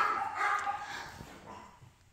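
A few muffled dog barks sound from a short distance away, fading out after a second in a quiet room.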